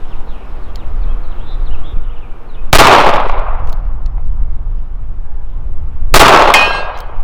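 Two sharp revolver shots from a Colt Cobra on an outdoor shooting range, several seconds apart, each loud and close with a ringing tail over steady outdoor background noise.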